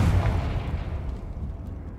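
A Confringo explosion spell goes off in a Harry Potter video game set at Hogwarts, a single deep booming blast up front that rolls off into a fading rumble.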